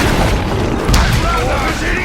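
A ballista mounted on a graug firing in the video game Shadow of War, heavy booming impacts under continuous loud battle noise and someone talking over it.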